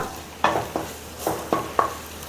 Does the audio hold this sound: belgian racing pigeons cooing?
no